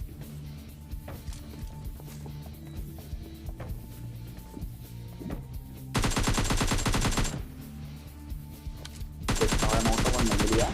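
Bursts of AK automatic rifle fire in PUBG Mobile Lite, two long loud rapid-fire volleys dominating the mix, with quieter game ambience and faint distant shots between them.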